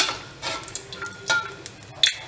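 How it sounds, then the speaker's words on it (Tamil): Cloves and cinnamon pieces hit hot oil and crackle in short bursts of sizzling, close up and fairly loud, with a few sharp pops and clinks and no one speaking. "எண்ணெய் நல்லா சூடு ஏறிச்சு. நம்ம கிராமும் பட்டையும் போட்டுக்கிறோம்"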